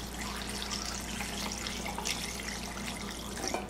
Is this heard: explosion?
no